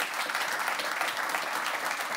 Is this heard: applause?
yes